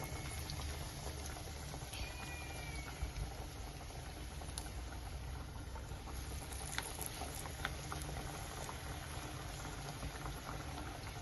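Parippu vada, a Kerala lentil fritter, frying in hot oil, with a steady dense bubbling sizzle and fine crackling that runs evenly throughout, fairly close and alone with no voices.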